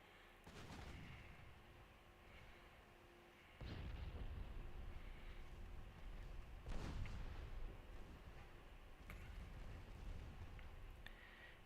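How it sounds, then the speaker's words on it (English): Naval guns fire repeatedly in the warship game Ultimate Admiral Dreadnoughts, with sharp booming shots at irregular intervals over a rumbling battle backdrop, moderately distant and without talk. "That's just a lot of gunfire coming from you guys."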